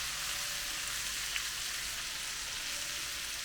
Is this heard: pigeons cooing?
no